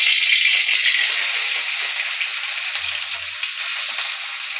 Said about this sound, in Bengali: এবার চিংড়ি মাছটা একটু ভেজে নেব